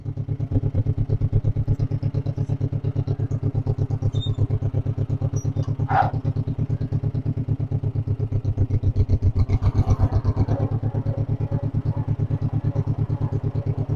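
A 1958 John Deere 420W tractor engine chugs steadily at a low idle, close by, with a deep rhythmic thumping throughout and a brief clank midway.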